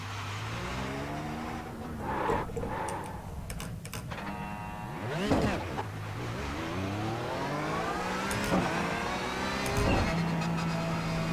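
A racing car in a sim racing game drives backwards, its engine whining steadily as the pitch rises and falls through repeated gear shifts, with a sustained, moderately loud motor drone throughout.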